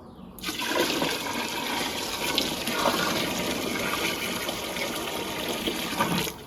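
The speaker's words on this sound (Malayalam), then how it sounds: "ഇനി ബാലൻസ് നമുക്ക് ഫില്ല് ചെയ്യാൻ വേണ്ടി കുറച്ച് വെള്ളം ഒഴിച്ചു കൊടുക്കാം" A steady, gushing stream of water pours into a container for several seconds, loud and close, without pause.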